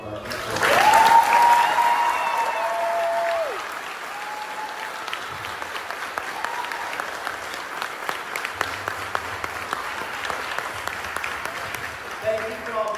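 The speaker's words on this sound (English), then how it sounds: "Big round of applause for our next." Applause at a 5th grade promotion ceremony swells for a couple of seconds, then tapers into scattered clapping and crowd murmur, with a voice briefly audible early on.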